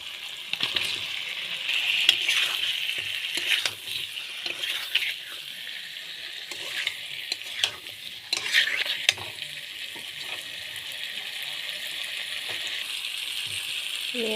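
Pangas fish pieces sizzle steadily in hot oil with cooked-down spices and garlic, a bright continuous frying hiss broken by repeated scraping stirs of the spatula against the pan, close and fairly loud throughout.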